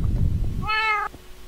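A cat in Minecraft gives a single clear, tonal meow after a moment of low muffled rumble.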